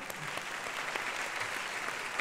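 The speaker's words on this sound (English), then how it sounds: "Maybe another round of applause for that." A full, steady round of applause from the audience at a Yoga Day event at the United Nations, dense clapping filling the hall at even loudness throughout.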